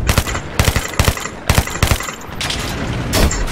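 Loud, close Battlefield 3 gunfire crackles in rapid bursts of automatic shots separated by short gaps, then settles into a rougher sustained rumble of firing.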